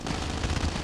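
A dense burst of rapid gunfire in the mobile shooter Call of Duty Mobile, loud and close, one continuous automatic volley lasting under a second.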